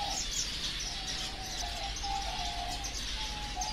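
Birds in an aviary reserve calling steadily under a bright, constant hiss of ambient noise, with thin repeated chirps and tones carrying through at a moderate distance.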